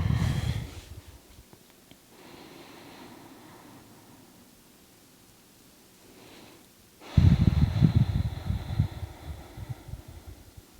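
Slow, deep breaths during a pelvic floor exercise in pregnancy, soft airy inhales giving way to a louder, rougher breath toward the end, close and alone.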